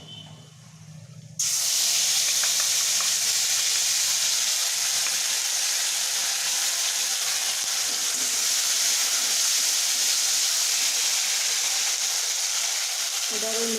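A paste of cashew, poppy seed, ginger and green chilli hits hot oil with a sudden loud, steady hiss and sizzle after a brief quieter lead-in, continuing close and strong without pause for the rest of the clip.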